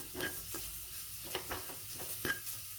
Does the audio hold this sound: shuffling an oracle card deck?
no